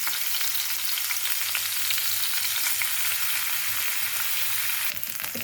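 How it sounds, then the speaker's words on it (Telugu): Steady, close sizzling of tempering spices and chillies frying in hot oil for tomato bath, a dense crackle that holds at an even loudness throughout with no talking. "తాలింపులు కూడా వేసిన ఫ్రెండ్స్"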